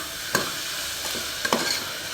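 Onions sautéing with salt in a pan while making chicken biryani: a soft continuous sizzle with a few scraping stirs and light clinks, close by and without talk.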